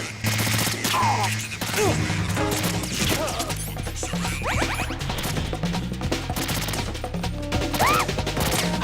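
Dense gunfire from enemy soldiers in a Metal Gear game, rapid automatic bursts with crashes and impacts, loud and nearly unbroken across the scene, with game voices mixed in.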